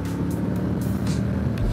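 A Honda Rebel 1100 cruiser with a 270-degree crank parallel-twin engine and DCT gearbox is ridden in rain mode on wet roads, its pulsing engine and exhaust note a steady loud rumble with wind and road noise.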